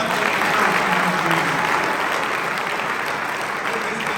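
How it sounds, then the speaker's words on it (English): Sustained, loud applause from an audience at a university panel discussion, honoring the coaches; dense and steady throughout with no gaps, a crowd clapping together as a continuous wash of sound. "you guys give them a round of applause"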